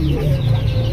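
A male fancy racer pigeon calls close by, a low, throaty coo that carries steadily through the whole moment with no talking.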